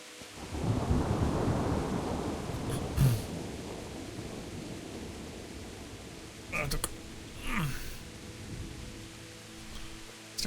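Thunderstorm in Kingdom Come: Deliverance: a long, loud rolling rumble of thunder over steady rain, fading out, with a couple of sharper crackling flashes of noise later on.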